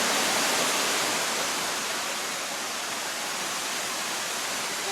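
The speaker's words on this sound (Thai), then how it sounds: "ดูน้ำไหลลงมาดิครับ" Water pouring down Sai Yok waterfall in Thailand, a steady, loud, rushing roar that continues unbroken throughout.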